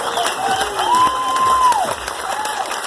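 Steady applause from a crowd, a dense wash of clapping with a few cheers and a voice briefly rising above it.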